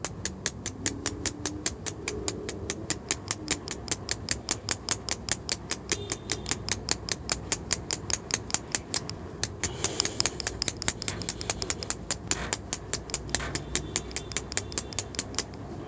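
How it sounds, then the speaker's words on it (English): A bushcraft fire striker is scraped again and again to throw sparks toward amadou tinder, making sharp, evenly spaced rasping strokes in a quick steady rhythm, close and clear. "I'm getting sparks, but it's not landing on the Amadou."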